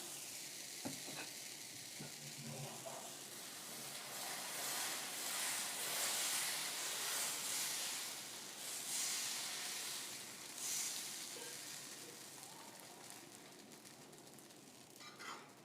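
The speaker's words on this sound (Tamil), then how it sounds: "இப்போ நம்ம வழக்கம் போல் தோசை ஊற்றுற மாதிரி ஊற்றிக்கலாம்." Dosa batter spreading thinly on a hot pan for a Mysore masala dosa, giving a soft, steady sizzle and hiss that swells in the middle and then gradually fades, with no voices.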